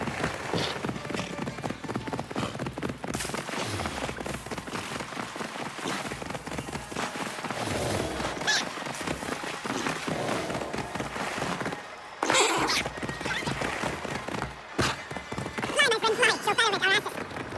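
Rapid rhythmic hoofbeats of galloping horses in Assassin's Creed Valhalla pound continuously under a dense wash of game sound during a siege, with voices talking over the ride.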